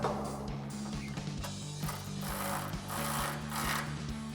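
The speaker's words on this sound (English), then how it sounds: "we're gonna grab our ratchet and a wrench to hold the other side" A ratchet clicks in quick repeated bursts, pausing and resuming, while tightening 18mm bolts on a RAM 1500 front bumper, close and without talk.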